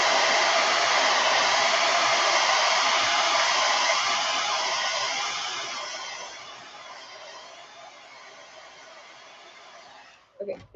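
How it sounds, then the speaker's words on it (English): A hair dryer blows with a steady loud whoosh, gradually quieting as it moves away or powers down, ending with a brief clunk. "I'm going to hit this with a hair dryer just so it doesn't mess up."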